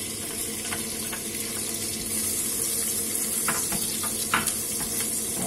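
Onion and garlic fry in a pan with a steady close sizzle and hiss, a few stirring clicks and scrapes popping out over the constant frying.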